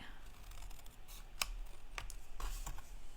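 Scissors snip off excess paper from a handmade explosion box, a few sharp, close cuts spaced out over a soft background hiss.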